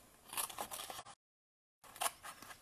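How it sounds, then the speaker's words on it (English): Scissors snipping through paper while fussy-cutting a stamped image for a handmade Z-fold easel card, a run of close crisp cuts that stops for a silent gap before the cutting resumes. "So I'm just going to remove it from the sheet first, and then I'll tidy it up."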